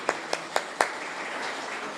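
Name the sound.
audience applause for the guests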